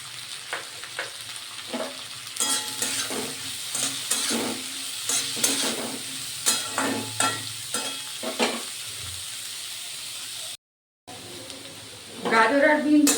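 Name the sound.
carrots and beans frying in oil in a pan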